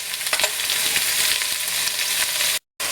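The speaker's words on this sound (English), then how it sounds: "we're going to let them brown on all sides, including the beef cubes" Beef cubes browning in a frying pan, a loud, dense, steady sizzle close by with small crackles and faint stirring, cut by a brief gap of silence just before the end.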